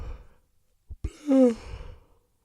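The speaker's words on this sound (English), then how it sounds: "Goddamn yawning." A single drawn-out yawn with a rising then falling voiced tone, close and fairly loud, ending in a breathy exhale, with a few faint mouth clicks just before it.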